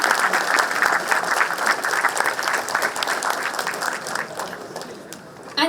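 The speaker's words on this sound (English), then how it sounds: "Come on guys, just cheer up for her." Sustained, dense applause from an audience welcoming a keynote speaker onto the stage at a DevFest 2023 developer conference in Chennai, steady and fairly loud throughout, tapering slightly near the end.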